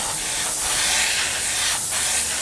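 An airbrush sprays paint along the wing leading edges of a 1/48 scale Tamiya Supermarine Spitfire Mk.I model, giving a close, steady airy hiss with slight swells.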